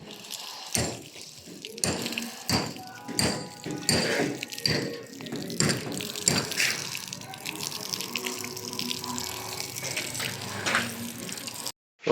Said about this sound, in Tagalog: Mahina yung tubig.